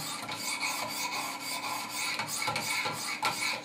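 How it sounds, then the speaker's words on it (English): A Benchmade 940 knife is sharpened on Wicked Edge 400 grit stones, with close, rhythmic rasping strokes repeating steadily and no speech. "I'm already up to the 400 grit stones,"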